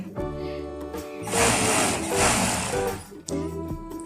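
Sewing machine stitching a ruffled blouse, its motor whirring in steady bursts for a few seconds between quieter stretches, close and fairly loud with a voice talking around it.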